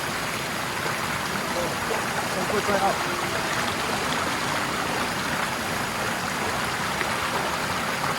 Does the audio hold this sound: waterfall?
yes